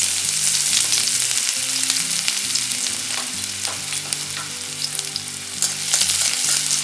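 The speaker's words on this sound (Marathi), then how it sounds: "कढईत आपण तेल गरम करून घेतलंय त्यात आपण कांदा घालणार आहोत" Onion sizzles in hot oil in a kadhai, a loud, close, continuous frying hiss with crackling spatters and occasional stirring scrapes, with low background tones running underneath and no voices.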